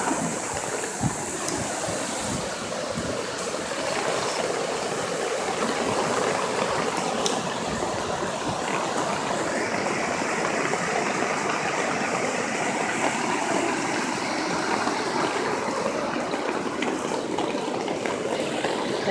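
Floodwater rushes hard and steadily past a house door warped by its pressure, a dense, unbroken roar throughout with a few faint clicks and knocks mixed in.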